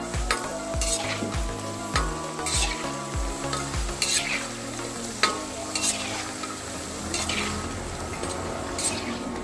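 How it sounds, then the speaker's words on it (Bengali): Flour and egg snacks fry in hot oil with a steady bubbling sizzle, while a utensil clinks and scrapes against the pan in sharp repeated knocks, close and clear, no talking. "তেলটা আমার গরম হয়ে গেছে, এখন আমি এক এক করে সবগুলো ভেজে নেব।"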